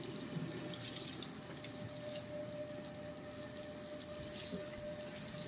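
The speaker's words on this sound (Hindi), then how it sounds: "इसलिए उनको धोना पड़ता है पानी के साथ" Running water from a hose or tap washing dust off rooftop solar panels at a farmhouse, a steady close splashing hiss that continues without a break and carries no speech.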